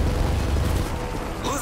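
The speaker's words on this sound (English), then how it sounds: "Friendly Predator missile inbound." A Predator missile explodes in multiplayer Domination gameplay of Call of Duty Modern Warfare 3, a heavy, rumbling boom that fades into lighter battlefield noise.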